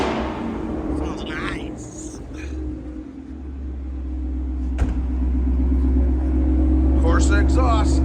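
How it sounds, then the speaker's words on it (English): A 2017 Ford Mustang GT fastback with a 6-speed manual and Corsa exhaust, its deep V8 burble idling steadily and swelling into a rev, with people talking over the rumble. "Corsa exhaust."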